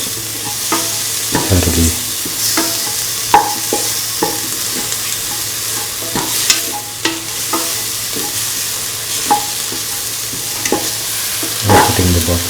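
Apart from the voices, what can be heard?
sautéing cauliflower and tomatoes in a pan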